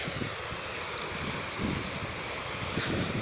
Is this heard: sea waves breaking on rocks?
yes